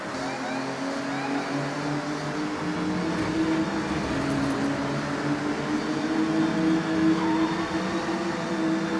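A small BMW racing in Forza Horizon, its engine holding a loud, steady whine with rising and falling revs, alone with no talking.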